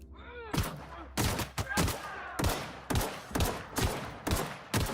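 Gunfire in The Outer Worlds: about eight loud, sharp shots spaced roughly half a second apart, each followed by a short decaying tail, with game ambience between them.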